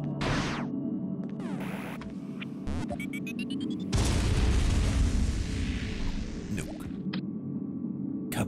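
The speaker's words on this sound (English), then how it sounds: "Nuke. Kaboom." A nuke explosion in Metroid II: Return of Samus produces a loud, sustained electronic roar with a deep rumbling low end that swells midway through, layered over a steady game hum and scattered synthetic blips.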